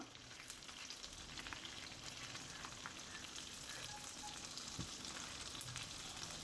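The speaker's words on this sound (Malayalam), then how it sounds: "ചെമ്മീൻ ഇവിടുന്ന് പൊരിഞ്ഞ് വരട്ടെ" Prawns frying in coconut oil with shallots and chillies give a steady, dense sizzle that holds at an even level throughout, with faint crackles scattered over it and no voices.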